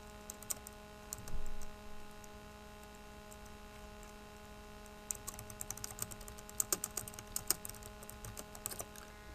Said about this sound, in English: You can finish typing in your diagnosis.